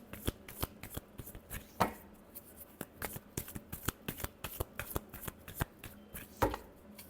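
A deck of tarot-style cards is shuffled by hand at close range, giving quiet, rhythmic riffles and crisp slaps repeating in irregular bursts.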